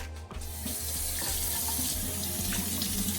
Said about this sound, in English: here I have 7 medium potatoes. I'm going to be washing them